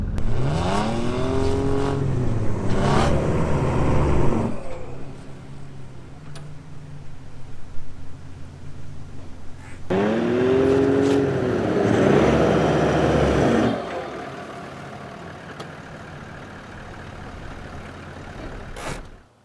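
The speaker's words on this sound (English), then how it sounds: "small car pulling big car, you got to give it a bit" Small Suzuki car's engine revs hard while pulling a Land Cruiser in a recovery, loud strained surges rising and falling in two long pulls with a quieter idle between.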